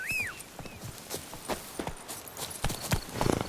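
Hooves of Roach, Geralt's horse in The Witcher 3: Blood and Wine, clip-clopping in a steady walking rhythm at close range, with a short whistle-like tone near the start.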